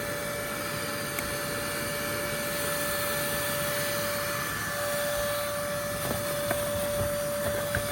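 A vacuum draws yellowjacket wasps out of a dug-up ground nest, a steady, loud, even drone with a fixed whine and no talk over it.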